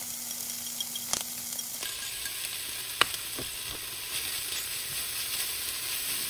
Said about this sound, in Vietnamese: Khi tôm chín và ngấm đều gia vị thì cho lạp xưởng vào trộn đều